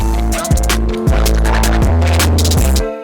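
A loud, heavily distorted trap hip hop beat with booming bass hits and crunchy, saturated percussion repeating in a steady groove.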